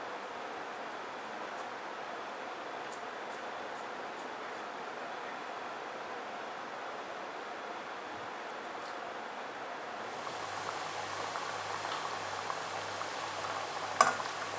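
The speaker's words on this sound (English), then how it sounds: "So it started to fry" Eggless rava biscuit dough frying in hot oil: a soft, steady bubbling sizzle throughout, growing noticeably fuller and more crackly in the last few seconds.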